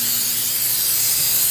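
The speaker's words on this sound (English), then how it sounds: "Then we're going to spray it well" A steady, loud hiss of cooking spray being sprayed into a springform pan, continuous and close for the whole moment with no break.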